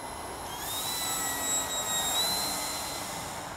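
A light plane climbing away after a touch-and-go landing, its engine a steady whining drone that swells slightly mid-pass and stays fairly close throughout, with no voices.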